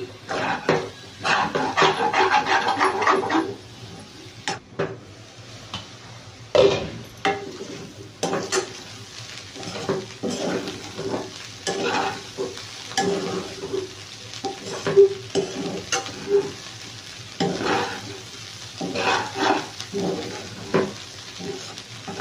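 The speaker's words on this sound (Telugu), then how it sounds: "ఇప్పుడంతా మనం మిక్స్ చేసుకుందాం" Egg curry with chili powder being stirred in a frying pan, a spoon scraping and clinking against the metal in irregular strokes over a soft, steady sizzle, close and alone.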